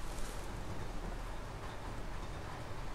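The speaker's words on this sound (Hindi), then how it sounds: "अच्छी बारिश हो रही," Heavy rain falls in a steady, dense wash of noise that holds at an even loudness throughout, with no voices over it.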